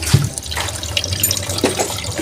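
Water running steadily from a three-stage water filter, a close splashing trickle like a tap filling a container, with no voices.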